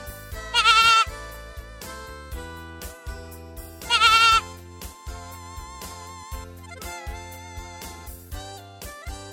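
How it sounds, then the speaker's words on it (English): A goat gives two loud, quavering bleats about three seconds apart, set over steady background music with softer tonal notes between them. "Goat."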